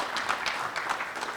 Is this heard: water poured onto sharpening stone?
no